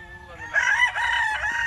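A rooster gives a single close, loud crow that rises and holds briefly, with a low murmur underneath.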